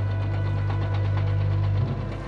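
Heavy vehicle engine holding steady at 1500 RPM while towing a 150-tonne Antarctic research station module across the ice; a close, continuous low diesel drone with a rough, knocking pulse and no talk.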